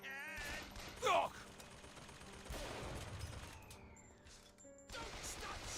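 Gunfire in BioShock Infinite, a dense fusillade of rapid shots and crashes that runs nearly continuously amid game chaos, with voices shouting over the combat.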